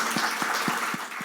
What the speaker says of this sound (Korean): 수고하신 이경민 집사님과 새롭게 수고하실 신임 임원분들에게 우리 박수로 격려하도록 하겠습니다.